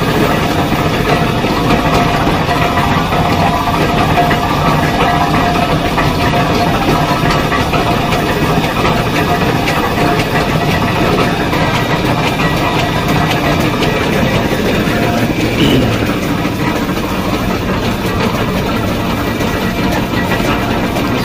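A large engine powers a century-old sugarcane mill making rapadura in the Pernambuco backcountry, running in a loud, steady, rumbling drone close by for the whole span with no talk.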